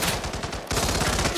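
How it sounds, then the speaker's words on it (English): Rapid gunfire in the video game Hitman, a fast burst of repeated sharp shots that pauses briefly and then resumes just as loud and dense. "if you couldn't tell by the gunshots."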